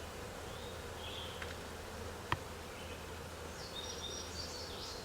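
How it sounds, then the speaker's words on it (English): Honey bees hum steadily on a hive frame, a low constant drone close by, with faint higher buzzes passing over it and one brief tap partway through. "So you can see we've got a lot of bees on here."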